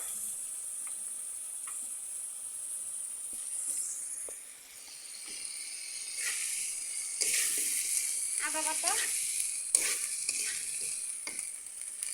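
Ginger paste frying in hot oil as a Bengali home-style dish is cooked, a steady soft sizzle and hiss with occasional stirring scrapes, close and fairly quiet throughout.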